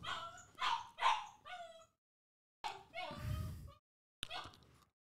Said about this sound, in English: right now, Kaya is a little baby who's crying non-fucking stop.